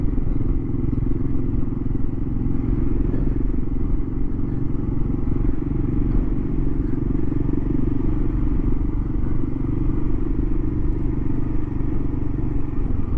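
A Kawasaki KLR 650 motorcycle pulls into a fuel station on a country ride, its single-cylinder engine droning steadily and loudly close to the mic, with wind rumble throughout.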